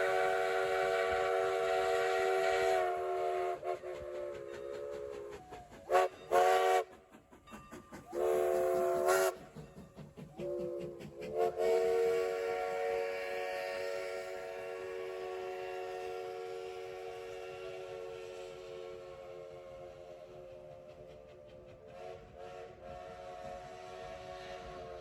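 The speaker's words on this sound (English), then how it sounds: "the locomotive is normally run around the train for the trip back to Jamestown" A train rumbles steadily with a long sustained whistle sounding over it, broken by a few short blasts, then fading as the train rolls on.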